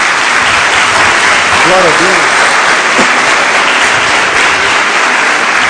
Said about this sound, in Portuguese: Então dê uma salva de palmas a Jesus.